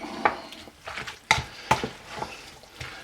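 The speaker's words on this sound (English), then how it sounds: "we're just going to stir this all up" Bison bolognese aromatics are stirred in a crock pot, giving a few sharp clinks of a utensil against the pot among softer scraping and shuffling sounds.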